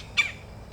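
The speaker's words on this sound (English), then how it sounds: "That's a woodpecker." A woodpecker gives a single sharp squawk, loud and close, followed by quiet background.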